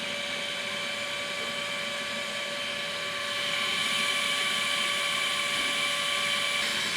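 A vacuum filter press running while maple syrup is filtered: a steady, loud motorized whine with a high tonal hum. It grows slightly louder partway through and continues unbroken, with no talking.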